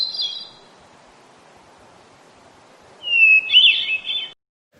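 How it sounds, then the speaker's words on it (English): A short hermit thrush phrase: a brief high note at the start, a pause, then a clear, flute-like whistled song near the end, distinct against quiet. "Another great one is the hermit thrush."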